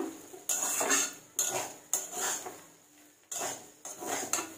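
Metal pan and utensils clatter and scrape in a home kitchen after cooking over a low flame, several sharp clanks with short scraping strokes between them, close and fairly loud with no talking.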